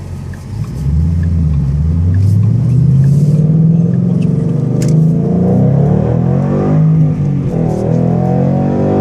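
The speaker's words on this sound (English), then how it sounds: "That's the new Roush Exhaust." A 2014 Ford Mustang GT with a Roush exhaust accelerates hard through the gears, its loud deep V8 rumble climbing in pitch, dropping at each shift and climbing again, heard from inside the car.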